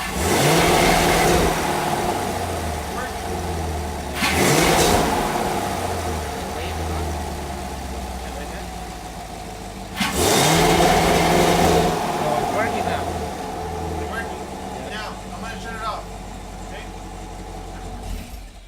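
Chevrolet Camaro engine with 2-step launch control on, idling in a low rumble between two loud revving bursts held against the limiter, with people talking at times.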